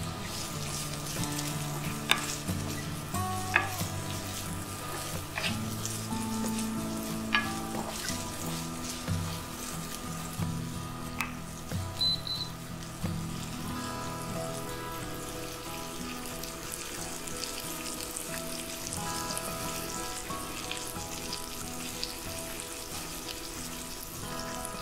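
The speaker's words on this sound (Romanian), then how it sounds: "Amestecăm din când în când pentru a nu arde ceapa." Onions fry in a pan for a mushroom stew, giving a steady sizzle with occasional stirring clinks and scrapes. A faint background tone persists throughout.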